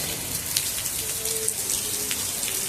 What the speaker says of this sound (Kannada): ಮಳೆ ಸಿಕ್ಕಾಪಡಿ ಸಿಕ್ಕಾಪಟ್ಟೆ ಬರತ್ತದ್ರಿ